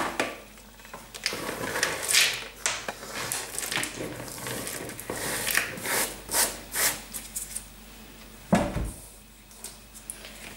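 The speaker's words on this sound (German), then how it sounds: "Und die verknetet ihr auch noch mit dem Teig." Chopped almonds being kneaded by hand into cantuccini dough, giving close, uneven rubbing and squishing sounds in irregular bursts, with a brief sharper knock partway through.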